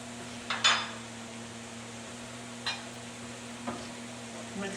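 A spoon stirs Hungarian paprika into onions, celery and garlic cooking in a soup pot, with a few faint scrapes and clinks over a quiet, steady background hum.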